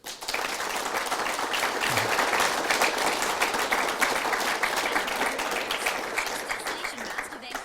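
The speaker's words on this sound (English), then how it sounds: "Now that was a fantastic applause." Audience applause at a radio broadcast event with a shipbuilding chief executive, a loud dense patter of many hands clapping continuously for several seconds with some voices mixed in.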